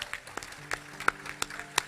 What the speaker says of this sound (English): a round of applause for our Grade 8 students.